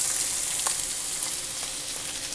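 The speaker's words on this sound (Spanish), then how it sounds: "lo primero que vamos a poner son nuestros ajíes morrón" Bell peppers fry in hot oil in a pan, giving a steady, bright sizzle with faint crackles and occasional stirring, close and continuous without any voices.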